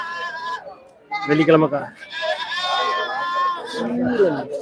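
Goats and sheep bleat repeatedly at the Friday livestock market in Ettayapuram, loud nearby wavering cries over a busy crowd of voices.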